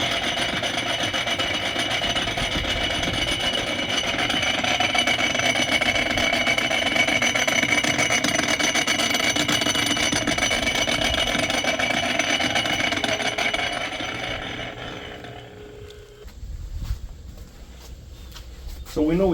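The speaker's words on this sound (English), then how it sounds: "we're going to have to do something about the bushings or bearings in the shaft here. It's rattling a lot." A Reed-Prentice lathe with worn headstock shaft bushings or bearings runs loud and close with a rough, rattling mechanical drone, then winds down and stops near the end, leaving a few faint knocks.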